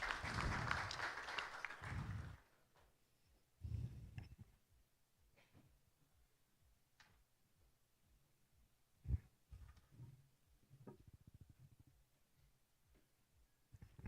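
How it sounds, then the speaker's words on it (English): Conference audience applause at a conclave, a short dense round of clapping at the start that cuts off, leaving a quiet room with scattered faint knocks and a few isolated sounds. "Can we have a big round of applause for them"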